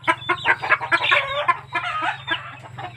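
Backyard chickens that roost on a kitchen roof cluck close by. Short, busy calls come in quick bursts over a steady low hum, and no voices are heard.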